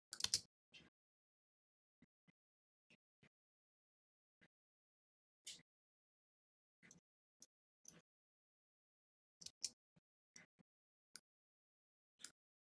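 Scattered, quiet keystrokes on a computer keyboard, single taps and short bursts of clicks separated by silent gaps, close and isolated with no voices.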